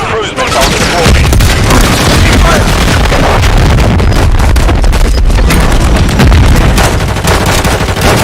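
A cruise missile explosion in a Call of Duty multiplayer match, a loud, sustained roaring blast and rumble mixed with dense gunfire and combat noise, very close and saturated.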